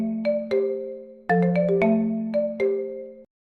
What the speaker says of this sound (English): I need to take this phone call.